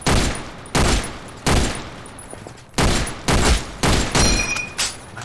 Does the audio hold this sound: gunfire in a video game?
yes